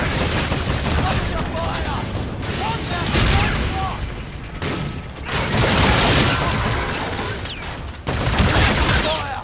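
Heavy gunfire from a Call of Duty: Infinite Warfare match, loud sustained bursts of rapid shots rolling in waves with brief gaps, dense and close, with voices mixed under the firing.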